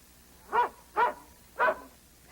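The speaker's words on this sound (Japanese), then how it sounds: "犬。" A dog gives three short, evenly spaced barks, close and distinct, with quiet gaps between them and no talk.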